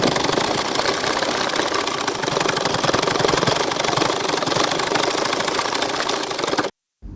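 A sewing machine runs continuously while stitching a dress, a loud, dense mechanical clatter with a fast rhythmic pulse that cuts out abruptly near the end.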